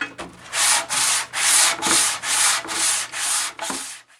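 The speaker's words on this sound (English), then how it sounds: "time to hand sand" Hand sanding wood on an aquarium stand, shown as seven steady back-and-forth rasping strokes in an even rhythm, close and fairly loud, each separated by a short pause, no speech.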